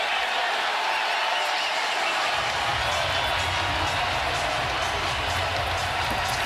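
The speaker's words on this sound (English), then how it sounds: "The crowd celebrating." Basketball arena crowd celebrating during an NBA playoff fourth quarter between the Nuggets and Timberwolves, a dense continuous roar of cheering and applause that swells louder partway through and stays loud throughout.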